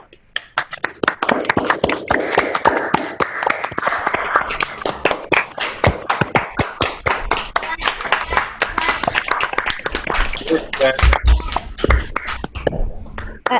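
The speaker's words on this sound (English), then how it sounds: "give everyone a big round of applause for tonight's 4 participants and last week's 5 participants" Video call participants clap for a group of sixth grade student presenters, a dense run of sharp, uneven hand claps at close range that keeps going steadily from start to finish, with faint background voices.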